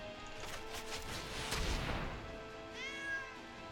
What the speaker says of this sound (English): My cat meowed at me.